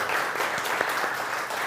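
A live audience applauds steadily as volunteers come up onto the stage, with dense, even clapping that runs at a fairly constant level throughout the short stretch.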